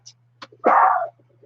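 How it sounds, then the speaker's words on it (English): A dog gives one loud, close bark, with a few faint yips and rustles around it and a steady low hum running underneath. "My dog is going nuts."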